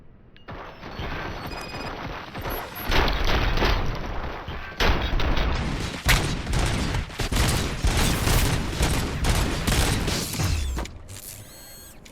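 Gunfire in Robocop Rogue City comes as a dense, sustained barrage of rapid heavy shots with mechanical clatter for several seconds, then cuts off abruptly.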